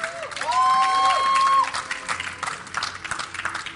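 An esports arena crowd cheers and applauds loudly for a moment, then the applause thins into scattered clapping under an announcer's voice.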